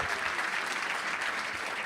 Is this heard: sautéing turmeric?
no